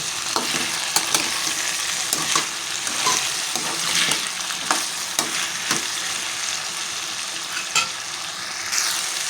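Chilli masala frying in a pan with turmeric and salt, a constant close sizzle punctuated by repeated scraping stirs of a spoon against the pan.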